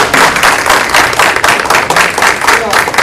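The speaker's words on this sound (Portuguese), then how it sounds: "Salva de palmas para o nosso palestrante aqui, por favor." Loud, dense rhythmic clapping from an audience at a public servants' forum in the Paulínia municipal chamber, steady applause for a speaker filling the whole stretch, close and energetic.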